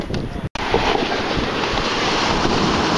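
Steady roar of ocean surf offshore on a windy day with surfers out, heavy wind buffeting the microphone throughout, broken by a brief dropout near the start.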